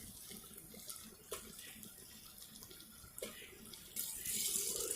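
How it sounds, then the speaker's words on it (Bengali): About two cups of water poured into a pot of egg biryani, a steady faint splashing trickle close by that grows fuller near the end. "এবার আমি এর মধ্যে 2 কাপ মতো জল দিয়ে দিলাম।"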